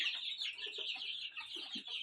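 Young chickens, both cockerels and hens, call in a new coop, with a steady high chirping chorus and a few low clucks scattered through it, close and continuous.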